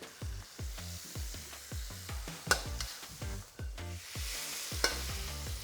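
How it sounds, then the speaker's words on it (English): Black pepper chicken sauce sizzling and crackling in a hot wok over high heat, with rhythmic stirring scrapes repeating about twice a second, close and steady. "Sizzling off the side of that wok, that is the sound we want."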